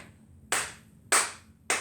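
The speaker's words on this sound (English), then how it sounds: "step together, step, and 3 claps" Three sharp hand claps ring out at an even beat during a pre-primary tap dance exercise, each one crisp and loud against a quiet, faintly humming room.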